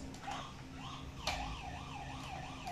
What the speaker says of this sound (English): those are police sirens.